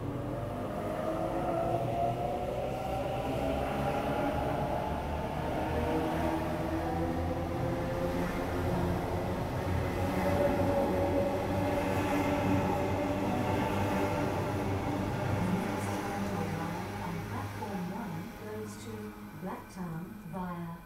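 A T1 North Shore line train rolls through Wahroonga station in Sydney, a loud sustained rumble with rising and falling mechanical tones over about twenty seconds, and a voice talking over it.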